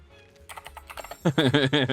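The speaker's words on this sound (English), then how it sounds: "Here comes more typing." Clicky keystrokes on a computer keyboard tap out in a quick, uneven run, close and clear, before a voice starts talking over the typing.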